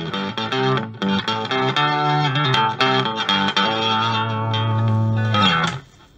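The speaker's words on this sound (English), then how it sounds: "This is a pitch shifter that's giving us octave down." Electric guitar played through a distorted Fender Mustang Mini amp with an octave-down pitch shifter, chords and riffs doubled by a thick low octave, loud and continuous.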